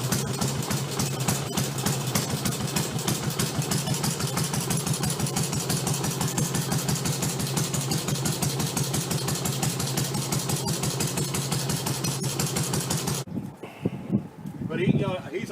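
Vintage Harley-Davidson motorcycle engine idling after a kickstart, a loud, fast, steady lumpy chug up close for about thirteen seconds before it cuts and a voice speaks.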